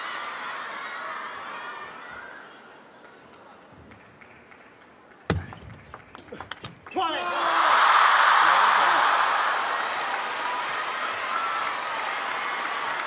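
Crowd applause at a table tennis match in the ITTF-ATTU Asian Cup, breaking out suddenly after a few sharp hits and swelling into a loud, sustained wash of clapping, preceded by quieter arena murmur.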